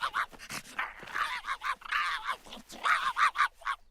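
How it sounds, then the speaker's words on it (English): Cartoon dog barking excitedly at squirrels during a camping trip, a rapid run of sharp yips and barks with panting in between, close and fairly loud. "That's exactly how he barks when he sees squirrels"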